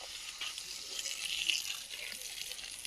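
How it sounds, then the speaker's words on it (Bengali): Water poured from a container onto the soil at the base of a guava tree in a garden, a soft, steady splashing trickle heard close up with no voices. "পেয়ারা গাছের গোড়ায় একটু জল দেবো।"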